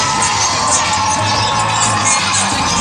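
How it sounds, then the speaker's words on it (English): Professional wrestling crowd in Wisconsin roaring an ovation for an entering wrestler, a loud, continuous mass of cheers, whoops and shouts that fills the room without letup. "And here he is, listen to that ovation."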